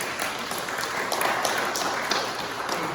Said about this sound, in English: I'd like for you to give them all a round of applause